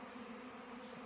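Swarm of honey bees in a garden, a steady, dense buzzing drone that is faint and distant, continuous throughout with no voices.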